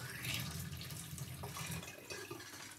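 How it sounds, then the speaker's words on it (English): Water pours steadily into a container in a continuous splashing, trickling stream, close and moderately quiet, with a faint voice in the background. "So let's pour it a little bit of the water."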